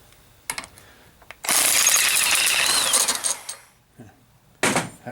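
A worn old engine mount from a 2004 Honda Pilot 3.5 V6 being pressed in a bench vise: a sustained loud grinding, creaking squeeze lasting about a second and a half, framed by short clanks and knocks of metal.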